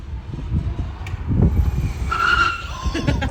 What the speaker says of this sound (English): we locked up that rear tire, and you can kind of hear what I was talking about, how it sounds like a car tire